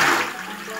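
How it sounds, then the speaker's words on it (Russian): Toilet cistern flush cut short by pressing the button again, a brief close rush of water that fades quickly. "необходимо нажать на кнопку слива и через секунду или две нажать еще раз, и подача воды из бачка остановится"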